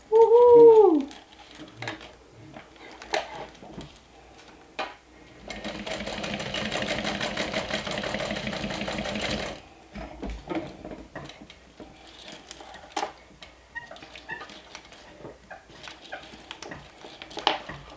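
A domestic sewing machine runs a final seam in a steady rapid whir of stitching lasting about four seconds, preceded and followed by quieter handling clicks and taps in a hushed room.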